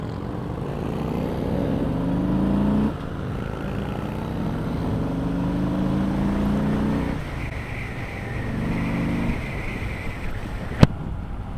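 A 2018 Harley-Davidson Low Rider motorcycle engine pulls hard with a loud, steady rumble, the pitch climbing through two accelerations, wind buffeting throughout and a sharp click near the end.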